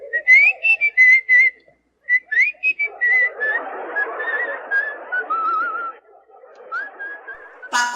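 A person whistles a wavering melody of short and sustained notes, with a brief pause, over a faint murmuring background, ending in a sharp noisy burst.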